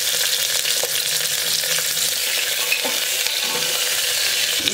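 Potato frying in hot oil with onion and whole spices, a dense steady sizzle heard close up, with faint clicks of stirring scattered through and no talk.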